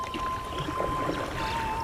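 A wooden rowboat is rowed with an oar on open water, soft dipping and gurgling strokes close by over a steady watery wash, with no voices.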